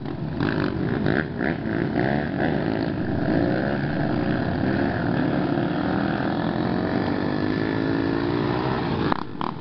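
An airplane's engine drones loudly and steadily overhead as it passes over a trail, its pitch sliding gently.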